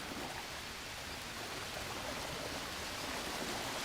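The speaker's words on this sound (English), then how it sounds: "we have a little waterfall here" Steady rushing water from a small waterfall in the jungle survival game Green Hell, a constant broadband splash and hiss that runs on evenly without any talk.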